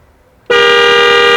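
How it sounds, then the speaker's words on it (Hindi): A trumpet-type horn on a Mahindra Thar diesel automatic SUV gives one loud, sustained blare that starts abruptly after a short quiet moment and holds steady, close and alone. "महिंद्रा ने इसे ट्रम्पेट टाइप हॉर्न देके अच्छा किया। Considering how big this car is, मुझे लगता है कि ये हॉर्न इस पे सूट करता है। Listen to this."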